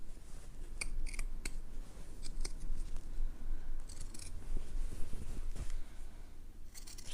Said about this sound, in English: Just going all the way around with my pinking shears, just nice and easy.